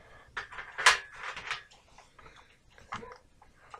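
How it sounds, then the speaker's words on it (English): A dog barks a few sharp times nearby, with short bursts scattered across a quiet room and small knocking sounds in between. "Sorry if you can hear my dog barking."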